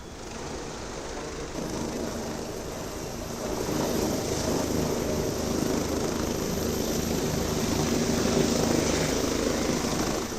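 A helicopter runs steadily with a broad, constant rotor and engine roar that grows slightly louder partway through, heard alone without talk.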